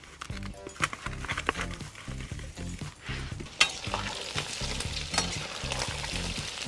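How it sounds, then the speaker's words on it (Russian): Chicken pieces for chicken kazan kebab sizzling loudly in a hot kazan while being stirred, with rhythmic scraping and shuffling against the sizzle throughout. "Курицу приблизительно жарим также минут 7."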